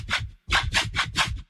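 Airy, breathy white-noise synth swells made in Vital as the top layer of a neuro bass, five pulsing bursts in a row after a brief pause, soft and washy with no voices.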